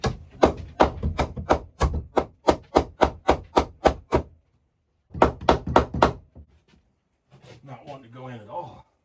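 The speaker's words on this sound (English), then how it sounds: "Not very much room here to hammer." Hammer blows drive nails while an electrical box is fitted in a cramped space, a rapid run of about a dozen sharp, close thunks, a short pause, a second burst of strikes, then a person speaks briefly.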